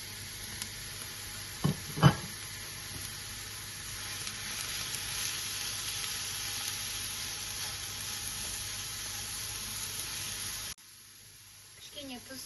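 Onion and carrot fry in oil in a pan with a soft, even sizzle, a couple of sharp knocks early on, then the hiss drops away abruptly near the end.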